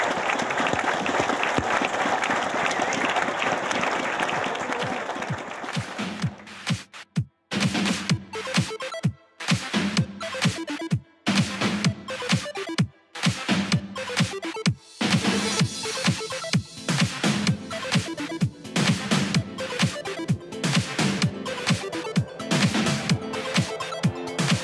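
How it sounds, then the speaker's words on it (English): Audience applause at a student underwater robotics event, loud and sustained clapping that fills the room, with several brief gaps and dips before building again through to the end. "Give yourself a round of applause."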